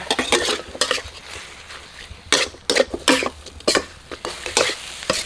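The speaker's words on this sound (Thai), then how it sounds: "ก็จะผัดให้หมูของเราเนี่ย พอ ตึงๆนะครับ" Pork stir-frying in a pan over low heat, a steady sizzle broken by repeated loud scraping and clanking strokes of a spatula against the metal, close and uneven in rhythm, with no voices.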